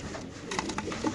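Large racer pigeons in cages at a pigeon farm coo softly in short low bursts over a steady background hum, close by.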